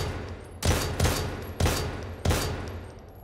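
Four sharp, loud gunshots from a firearm in the survival horror game Daymare 1998, unevenly spaced, each followed by a short decaying echo, with no talk over them.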